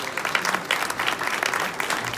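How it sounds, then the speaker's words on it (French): Brief applause from an audience at a village flower contest awards ceremony, a couple of seconds of lively, uneven clapping from a modest crowd close by. "On peut les applaudir."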